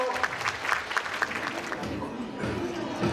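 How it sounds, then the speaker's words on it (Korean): A Thanksgiving dinner audience claps to welcome performers about to sing two songs, a steady broad patter of applause from the room with some murmuring under it. "Let's all greet them with a round of applause."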